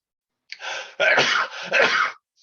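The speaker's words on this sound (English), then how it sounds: "there we go with the sneeze again" Three explosive sneezes in quick succession in a podcast studio, close to the microphone, sounding like sneezes or harsh coughs with no talking.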